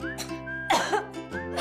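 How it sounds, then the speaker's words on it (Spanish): A single throaty cough with a short follow-up, close and clear, within a cough syrup advert, no speech around it. "Sale la tos, pero la flema no."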